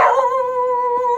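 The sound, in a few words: shop dog barking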